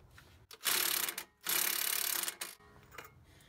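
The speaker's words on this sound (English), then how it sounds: "we're gonna remove these two nuts right here. We're gonna use a 21 millimeter socket and a 21 millimeter on the back." A ratchet with a 21 mm socket loosens the CV axle nuts on a 2008 Dodge Grand Caravan, producing two loud, close bursts of rapid clicking separated by a short pause, followed by a quieter shorter burst.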